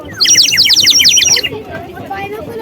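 A rapid run of bright, high chirps from a cheap toy bird whistle imitates a sparrow for about a second, then stops, leaving low background murmur.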